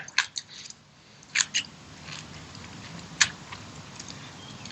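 Crisp bites into stir-fried white garlic chives with oyster sauce, eaten with rice porridge, give a few quiet, sharp crunches spaced irregularly over a low steady background hiss, close to the mouth with no talking.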